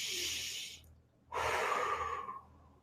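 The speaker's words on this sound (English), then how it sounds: "Take a minute and take a nice deep breath." A nice deep breath, one long breathy intake followed after a short pause by a loud, drawn-out airy exhale, close and alone with no talk.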